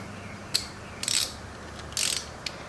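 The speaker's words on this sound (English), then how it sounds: "here I just go in with the ratchet I used earlier" A ratchet tightens the drain bolt on a 2018 Yamaha YZ125 dirt bike, giving a few short clicking bursts that are faint and close with no voices.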